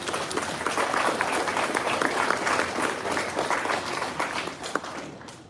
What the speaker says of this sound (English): I think we should applaud that. Let's applaud that.